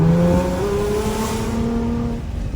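A Nissan R35 GT-R with an ECUTek tune and anti-lag floors it from a rolling launch. The engine note climbs in loud, rising revving tones that hold and then taper, close by with no talk.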